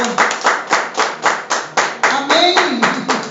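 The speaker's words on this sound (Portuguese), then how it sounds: "Aplauda Jesus, aplauda Ele." Church congregation clapping in steady rhythm during a Portuguese-language worship service, about a dozen loud, even claps close together, with a faint voice or singing underneath.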